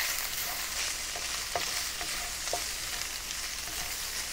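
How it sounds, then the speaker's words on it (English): Lamb being stir-fried with chili powder and cumin seeds in a Xinjiang-style cumin lamb dish, giving a steady loud sizzle with a few light scrapes and clicks of stirring throughout. "And then add the chili powder and also the cumin seeds and mix it thoroughly"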